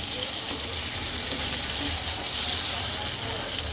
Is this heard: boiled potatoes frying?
yes